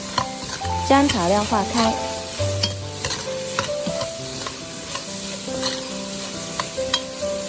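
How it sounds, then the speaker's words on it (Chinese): Chicken feet stir-fried in a wok after salt and chicken bouillon go in, a loud close scraping and sizzling with clattering spatula strokes, plus a brief spoken line near the end. "加入1小勺食盐，少许的鸡精，再快速的翻炒"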